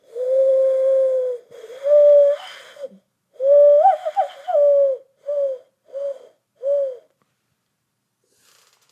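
Hooting coos blown through cupped hands imitate a pigeon: a long tone, then several shorter breathy calls in a loose rhythm, close and clear.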